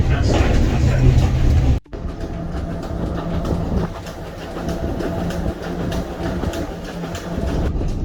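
Carriage of a South Devon Railway steam train rolling along, heard from a Pullman-style compartment just behind the locomotive: a steady rumble with faint rhythmic wheel clicks, broken by a brief dip before the running noise resumes.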